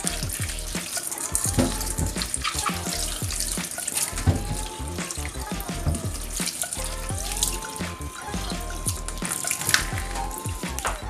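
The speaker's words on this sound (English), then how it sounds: "rather than washing it with a clean water until it is clean and clear" Plantains are washed under a running kitchen tap, water splashing and gurgling steadily with clattering handling sounds and drips, close and continuous, with no speech.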